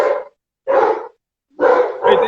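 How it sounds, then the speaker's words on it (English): Several loud, close dog barks come in short bursts, three to four sharp woofs with brief gaps between them. "So, pardon the barking dogs"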